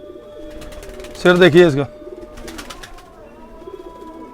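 A pigeon held in the hand coos in a short, loud, throaty burst close by, with someone talking over softer background sounds.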